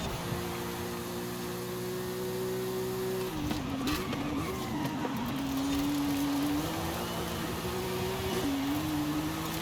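A Porsche 911 Dakar in Forza Horizon 5 drives hard, its engine droning steadily, then revving and climbing through gear changes with pitch dips and rises, loud and close with no talk over it.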